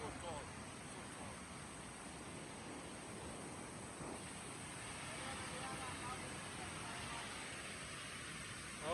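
A tall waterfall in Kirinyaga gives off a constant, even broadband roar of falling water, steady and moderately distant, with no break throughout.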